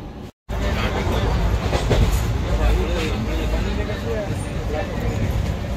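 A passenger train on an Indian rail journey rolling along the tracks, a loud continuous rumble with rhythmic clickety-clack from the carriage, briefly cut out near the start, with voices speaking over it.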